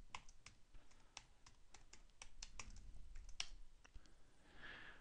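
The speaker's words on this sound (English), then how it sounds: "now I need to type in my university account network password" A university account network password is typed on a computer keyboard, a quiet run of rapid irregular key clicks heard close and faint, with no voices.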